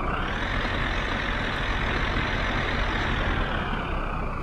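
Heavy wooden-bed truck in the driving game My Summer Car, its engine a steady loud drone with no breaks, holding a constant roar throughout.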